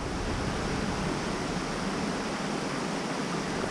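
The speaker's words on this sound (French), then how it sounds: "Alors là, j'approche des cascades." Waterfall cascades on the Vence river, a trout stream, roar as a steady, dense rush of falling water, close and unbroken, with no voices over it.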